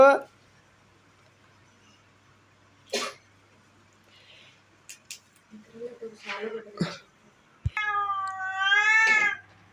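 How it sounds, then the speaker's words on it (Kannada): Pet cat meowing at home in a rising, wavering call near the end, with earlier short cat sounds and scattered voices and household noises around it. "ನೋಡಿ ಫ್ರೆಂಡ್ಸ್, ಇದು ಬೆಕ್ಕು"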